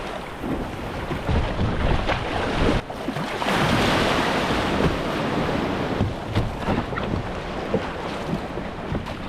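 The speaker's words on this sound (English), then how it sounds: "Okay, this is a breaker coming up towards us." Loud, continuous roar of surf and a breaking wave at a California beach during a boat launch, heavy wind noise on the microphone throughout.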